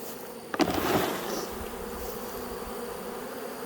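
A steady, droning buzz of many Cordovan Italian honey bees close by at an open hive, with a brief louder rustle near the start and a constant hum throughout.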